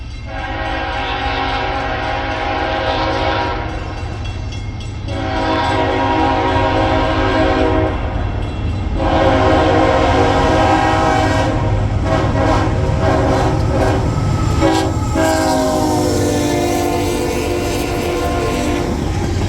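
Norfolk Southern locomotive NS 4003, in a special paint scheme honoring the Roanoke shops, rolls past with a loud, sustained multi-tone horn sounding in several long blasts over the rumble of the train.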